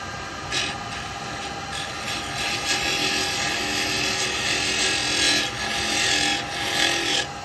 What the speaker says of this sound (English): Just drilling a little hole with it there.